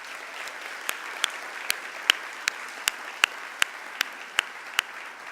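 Sharp, evenly spaced claps ring out one after another over a faint crowd murmur at a college convocation ceremony, a slow, steady round of applause.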